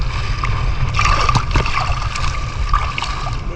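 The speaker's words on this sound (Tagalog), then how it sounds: "Lakas kasi ang hangin at saka alon." A boat paddled by hand through strong wind and waves on open water, with steady wind rush, water sloshing and splashing against the hull, and occasional knocks all the way through.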